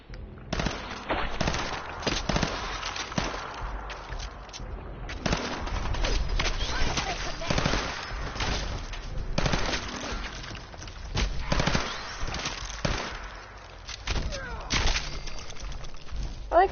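Pistol fire in Fallout 4, a rapid run of sharp bangs and crackling bursts that continues across the clip, loud and close over busy game sound.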